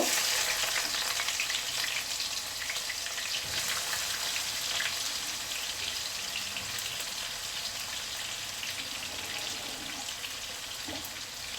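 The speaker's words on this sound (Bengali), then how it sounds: "এখন দিয়ে দেবো পেঁয়াজ কুচিগুলা, একটু একটু ব্রেস্তা করে নিব।" Chopped onions frying in a pan for beef spleen fry, a dense steady sizzle that holds loud and even throughout with no voices.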